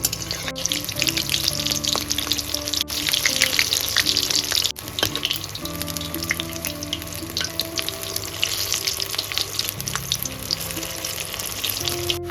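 Bok flower fritters, dipped in gram flour batter, frying in hot oil with a steady, dense crackling sizzle that runs close and continuous throughout, with no talking.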